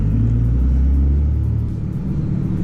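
A manual car's engine drops in a low rumble as the clutch goes in, then settles to a steady mid hum on shifting up into third gear, heard from inside the cabin.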